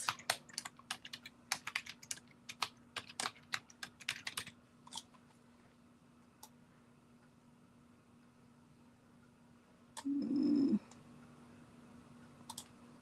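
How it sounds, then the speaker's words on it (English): Typing on a computer keyboard, a quick flurry of close key clicks over the first few seconds, then sparse single taps amid quiet, with a short low hum around ten seconds. "Let me type my text first."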